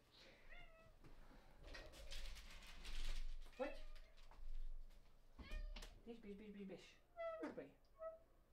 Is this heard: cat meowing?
yes